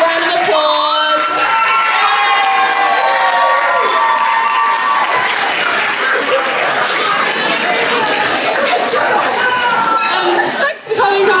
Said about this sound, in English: If everyone can give her an extra big round of applause.